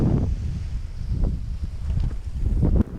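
Wind gusts buffet the microphone outdoors at a paramotor launch site, producing loud, rumbling low-frequency blasts that rise and fall irregularly throughout.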